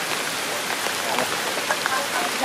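Heavy rain pours outside a night street food stand market in Surigao City, a dense steady hiss of falling water throughout, close and unbroken, with faint voices beneath.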